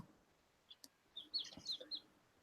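Black baby chicks give a few faint, high, thin peeps in short scattered bursts against a quiet background.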